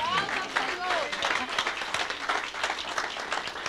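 A congregation at a church service applauds the Lord, a steady rush of many hands clapping throughout, with a voice briefly heard amid the clapping.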